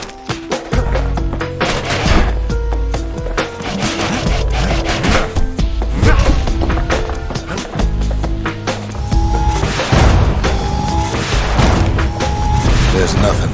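Big guns fire in the Bastion video game as a string of heavy booms and thuds, loud and close, over a constant musical score with a voice speaking at times.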